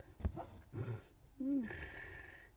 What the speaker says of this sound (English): he's barking at something in his sleep.